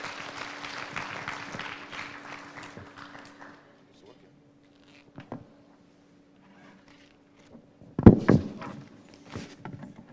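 An audience at a Youth and Adolescent Safe Motherhood Conference applauds the Honorable Minister. The clapping lasts a few seconds and fades out, followed by quiet and later some thumps and shuffling.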